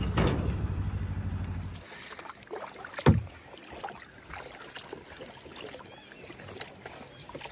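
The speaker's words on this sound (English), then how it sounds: "So we're currently on a kayak paddling up towards Lovers Falls." A kayak paddles on water toward a waterfall on Tasmania's west coast, with soft splashes and paddle strokes, a low rumble at the start and light wind.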